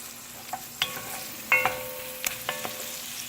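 Onions sweat in a pot for beef stroganoff: a soft, steady sizzle broken by a handful of spoon scrapes and taps, close and fairly quiet.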